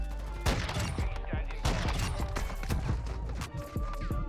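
Rapid bursts of SPR 208 marksman rifle fire in the Warzone 2.0 video game, loud, sharp, repeated shots in quick succession over a dense, busy in-game soundscape.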